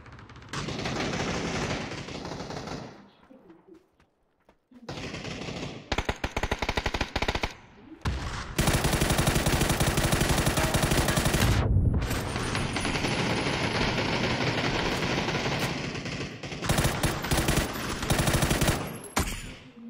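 Sustained automatic gunfire in PUBG on PC, long loud rattling bursts separated by short silent gaps, dominating throughout with no talk.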